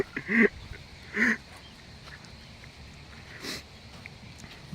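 Two short, raspy duck quacks close by early on, followed by quiet outdoor ambience and a faint rustle.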